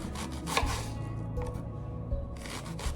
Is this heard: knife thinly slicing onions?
yes